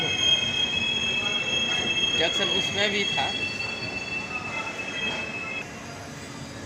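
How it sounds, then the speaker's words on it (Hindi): A train on the Jogbani–Siliguri line brakes to a halt after the emergency chain is pulled, its wheels squealing in long high metallic tones while someone talks over it. "ये लीजिए फिर से चेन पुलिंग, जिसके कारण ट्रेन को अभी रोका गया है"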